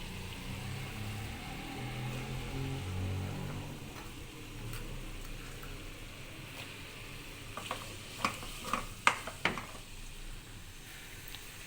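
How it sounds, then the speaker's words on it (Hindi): Apple, cucumber and red and green capsicum stir-frying in oil, a soft low sizzle with scattered stirring scrapes and a few brief clicks of a utensil against the pan. "अब हम इसमें सारी सब्जियां डाल देंगे। सेब, खीरा, शिमला मिर्च, रेड और ग्रीन"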